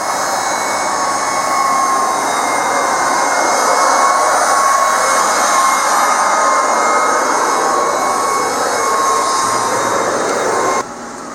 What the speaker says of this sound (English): Y'all can hear that vacuum or that blower going in there.